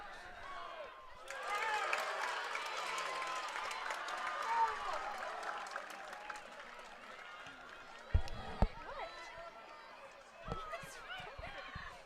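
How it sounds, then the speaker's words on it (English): Players on both soccer team benches clap and cheer for their teammates during a girls varsity match, with a steady patter of applause and crowd noise under close, continuous talk. "both benches are standing up, clapping for their teammates"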